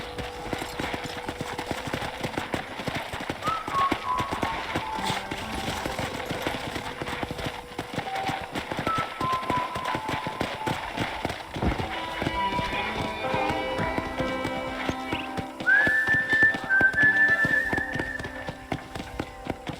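Horse hooves clip-clop steadily on a ranch in the Western game Red Dead Redemption, a continuous rhythmic trot under game music, with a rise in loudness near the end.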